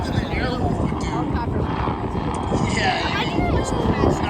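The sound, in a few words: aerobatic helicopter performing stunts at an airshow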